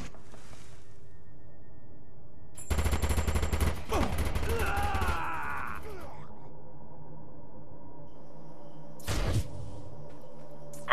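Turret gunfire in the video game Defiance comes as a rapid burst of shots lasting about a second. A groaning rumble follows, and a shorter burst sounds later, all at moderate level over a quiet background.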